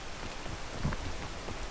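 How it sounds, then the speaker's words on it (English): Steady rain in the video game PEAK hisses continuously as a dense patter across the whole short stretch, with a faint soft thump in the middle and no talking. "When it's raining, it is harder to climb"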